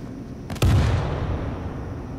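Payload rifle fired in the World War Z video game, one sharp heavy blast that booms and then decays into a rumbling tail, loud and close.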